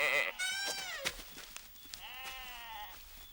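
Sheep bleat in a string of several wavering calls, close and fairly clear, with short gaps and faint movement between them.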